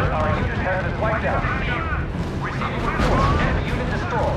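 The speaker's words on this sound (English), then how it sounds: "my light artillery was able to mow them out pretty good" Artillery fires in the World War II strategy game R.U.S.E. during a 2v2 match with France holding the center, as dense, continuous rumbling battle noise and booms under steady talk.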